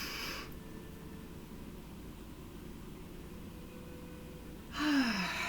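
A slow, deep human breath, drawn in softly at the start and released several seconds later as a brief audible exhale, both faint over a quiet, hissy room background with no talking.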